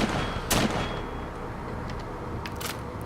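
A modded SKS rifle in Fallout 4 fires 7.62 rounds, a close burst of shots at the start and a couple of faint sharp cracks later, over a steady loud ambient rumble.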